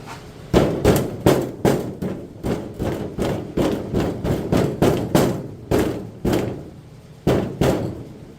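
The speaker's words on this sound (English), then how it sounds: "let me get a little hammer and do that now" Sharp metallic taps from a small hammer on the body metal of a 1967 Corvair, struck repeatedly in a steady rhythm with a few short pauses, loud and close.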